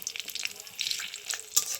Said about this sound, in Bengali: জিরে দিয়ে দিয়েছি